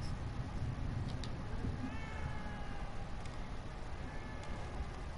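A cat in the Evil Within video game gives faint meows over a steady dark ambient hum, a couple of brief thin cries partly masked by the background noise.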